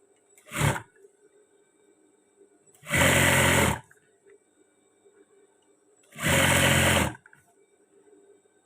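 A sewing machine stitches a trouser waistband in three separate bursts: a brief whir, then two longer, even runs of about a second each, separated by quiet pauses, close and with no one speaking.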